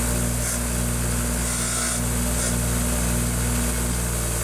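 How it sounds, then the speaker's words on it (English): A wire wheel scrubs rust off a shaft from a Homelite XL-2 chainsaw in a shop, a steady loud whirring grind with a constant low hum, slightly swelling in bursts, with no talking. "Thank God for a wire wheel, right?"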